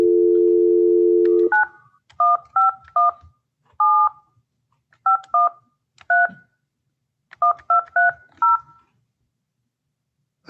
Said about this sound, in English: I dialed the number